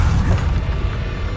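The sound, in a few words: Bombarda spell explosion in Hogwarts Legacy video game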